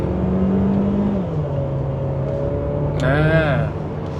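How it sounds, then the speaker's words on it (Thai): Mercedes-Benz GLA 200 engine under full-throttle acceleration from inside the car: a steady droning hum that swells into a sharper rising rev near the end. "เดี๋ยวผมขออนุญาตลองเร่งดูสิ เนี่ยจุ่มเคองเร่งมิดเลยนี่"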